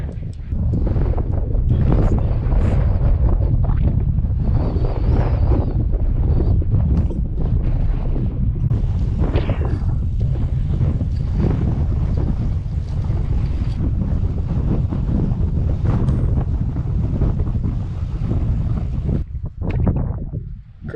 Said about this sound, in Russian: Короче, ветер продолжает уничтожать морально.